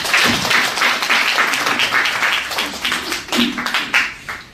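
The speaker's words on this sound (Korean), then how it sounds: "박수 한번 하도록 하겠습니다" Guests at a Chosun Ilbo executive program graduation ceremony break into loud, close applause, many hands clapping in a dense burst that swells and thins over a few seconds.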